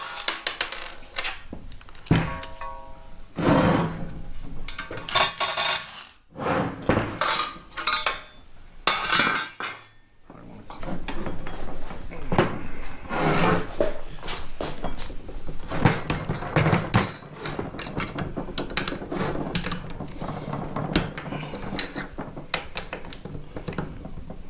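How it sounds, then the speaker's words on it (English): A wrench and ratchet work loose the cylinder head bolts on an engine during a valve spring job, with repeated metallic clicks, clinks and clattering bursts of ratcheting close by, broken by short pauses. "Next thing we want to do is go ahead and pop these head bolts off."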